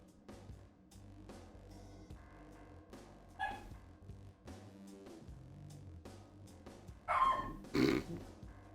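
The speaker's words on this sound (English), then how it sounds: "Oh, we set the dog off." A house dog lets out a few barks near the end, a couple of quick, fairly close yelps over a quiet, humming room background with no talking.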